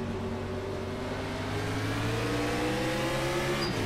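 Race car engine from the iRacing NASCAR Class B game at Darlington, held steady in second gear before a restart, a loud continuous drone with a gently rising pitch.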